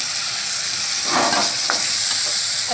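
Finely chopped tomatoes stirred into frying potatoes and beans for a spiced sabzi, with one brief burst of stirring and sizzle over a low, steady background hiss.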